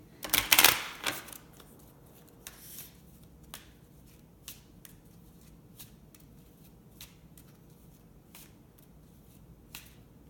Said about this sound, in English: And then we're going to pull a card from our crystal deck.